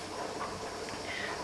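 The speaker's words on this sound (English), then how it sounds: "It's my pressure canner going" A pressure canner full of vegetable stock and onion broth hisses with a steady, broad rush of escaping steam in the background, continuous and unbroken through the short moment.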